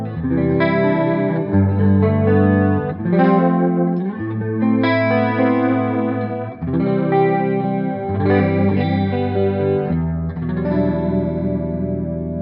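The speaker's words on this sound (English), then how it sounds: "The Mobius, just like a chorusy kind of a sound." Electric guitar chords swirl with a thick, shimmering chorus effect from a Mobius pedal, played loud and steady, changing chords every couple of seconds.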